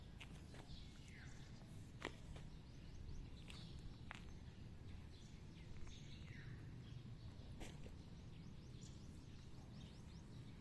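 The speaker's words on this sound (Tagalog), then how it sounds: "Yung tweet lang ng birds ang maririnig mo." Scattered short bird chirps and tweets over a quiet outdoor background, with a few soft footstep-like thuds.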